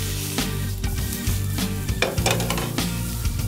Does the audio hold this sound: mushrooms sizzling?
yes